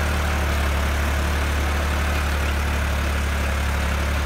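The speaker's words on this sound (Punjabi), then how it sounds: "ਟਰੈਕਟਰ ਵੀ ਸੌਖਾ ਤੁਰਿਆ ਫਿਰਦਾ ਜੀ ਅਤੇ ਹਲ ਵੀ ਬਹੁਤ ਡੂੰਘੇ ਲੱਗ ਰਹੇ ਆ" New Holland 3630 tractor engine pulling a deep-set chisel plough through a field, a steady loud low diesel drone that holds even throughout with no break.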